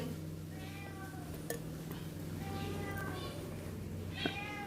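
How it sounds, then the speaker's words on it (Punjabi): A cat meows several times in a household kitchen, its drawn-out cries fairly close and clear over a low steady background hum, with no talking. "ਬਿੱਲੀ ਦੀ ਆਵਾਜ਼ ਆਉਂਦੀ"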